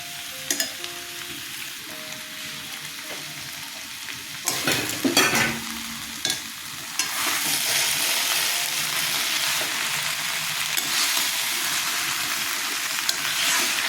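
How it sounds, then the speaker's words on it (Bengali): Fried potatoes tipped into a sizzling banana stem curry in a pan, a brief clatter and stir followed by steady loud frying sizzle with occasional utensil scrapes. "আলু ভাজাগুলো দিয়ে দিলাম"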